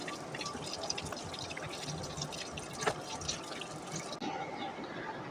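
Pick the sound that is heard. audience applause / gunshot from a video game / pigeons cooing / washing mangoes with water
washing mangoes with water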